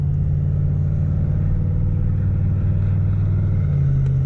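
A diesel pickup truck pulls a trailer onto the highway on a tow tune, its steady low engine drone heard close from inside, with the note rising slightly near the end.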